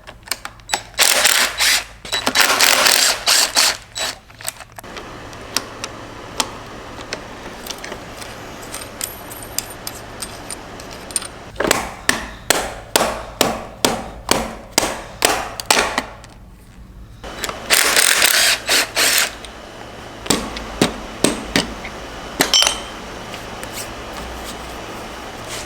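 Ratchet loosening the upper triple tree bolts on a 2012 GSXR 1000 motorcycle: bursts of rapid, close metallic clicking in quick strokes, separated by pauses and a few clanks of tool handling.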